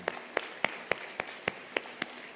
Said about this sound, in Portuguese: Aplausos a esse lindo trabalho